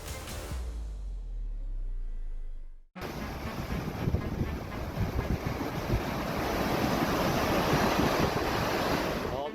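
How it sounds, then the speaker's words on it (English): Ocean waves pound wooden docks in Maine, a loud continuous roar of surf with wind noise, starting abruptly after a few seconds of low rumbling. "In Maine, waves pounded the docks, tearing wooden planks and pillars apart."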